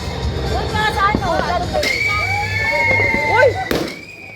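New Year fireworks in Manila burst and crackle at a distance, with several sharp pops and whistling streaks rising over steady crowd chatter and nearby voices talking.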